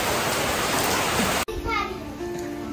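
Steady winter rain, the first of the season after falling continuously since evening, hisses as a dense broadband wash for the first half, then gives way to quieter patter with a child's and adult's voices talking over it.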